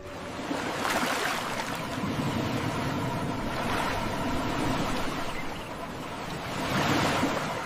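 Sea surf at night along a coast in San Roque, a steady broad wash of waves with slow swells building and easing every few seconds, with some wind in the microphone, heard alone and fairly close.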